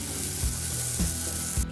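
Grated coconut and cooked tuna sautéing in a pan for a Kerala fish ularthiyath, a soft continuous sizzle with a few brief stirring scrapes, close and alone.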